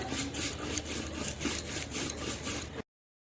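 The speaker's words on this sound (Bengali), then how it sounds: "সিম ছাড়া সব উপকরণগুলো বেটে নিচ্ছি।" Spices and other ingredients for a bean mash being ground by hand make close, rhythmic rasping back-and-forth strokes, about three each second, before cutting off abruptly.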